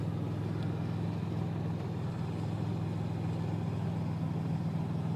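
A 1996 Dodge Dakota idles just after a cold start, a steady low engine rumble that stays continuous and fairly quiet with no talking.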